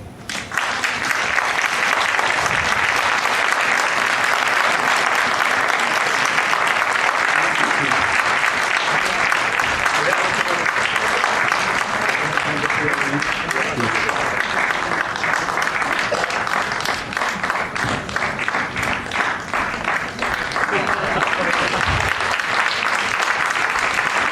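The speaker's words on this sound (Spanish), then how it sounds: "además les damos un aplauso" Sustained, loud audience applause with dense clapping that holds steady for a long stretch, with a few voices faintly underneath.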